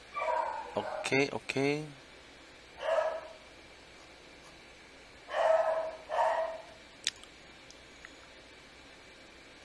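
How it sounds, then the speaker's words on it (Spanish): Several dogs barking outdoors at a moderate distance in separate bursts, some with a yipping edge, alongside a brief spoken word. "Esos perros no dejan de ladrar"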